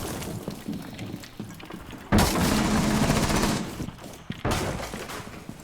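Rainbow Six Siege gunfire crackles in dense rapid bursts, with a heavy loud volley erupting midway and another later, over a background of muffled shots and game noise.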